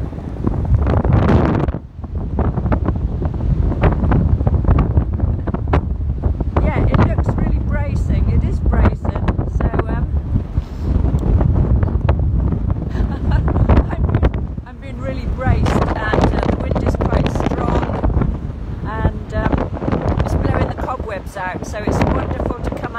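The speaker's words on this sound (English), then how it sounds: "it's an amazingly powerful, blustery, wintry day on the beach" Strong, blustery wintry wind roars constantly across the beach at Woolacombe Bay in Devon, loudly buffeting the microphone with heavy, rumbling gusts throughout.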